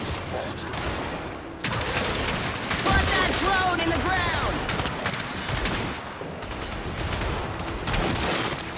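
Gears 5 gameplay gunfire crackles in dense bursts of rapid shots landing headshot kills, loud and busy, with a voice talking over the shooting.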